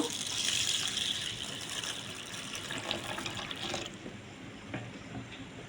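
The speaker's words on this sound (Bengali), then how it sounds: "এর মধ্যেও জলের পরিমাণটা একটু বেশি দেব" Water gushes steadily into a mix of split black gram, chana dal and matar dal set out for soaking, a close, loud splashing pour that fades off after about four seconds.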